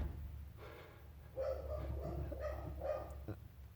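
Dogs barking indoors during a workshop fabrication session, a handful of short sharp barks in a quick cluster over a low steady hum, moderately near.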